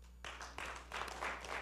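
Applause breaks out from a church congregation, quiet and somewhat distant, starting abruptly and continuing steadily for a moment with no voices over it.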